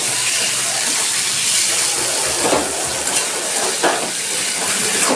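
Chopped tomato and green chili fry in a pan of hot oil, a close, loud, continuous sizzle with a few louder sputtering bursts and faint stirring.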